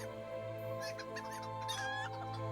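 Chickens in a video game cluck softly over a steady background music drone, with several short bursts of clucking.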